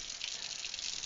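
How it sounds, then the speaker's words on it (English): Warm water poured or running from a tap for a whole wheat and seed bread dough, a steady, close hissing gush that fills the whole second without a break and with no voices. "There's some warm water here."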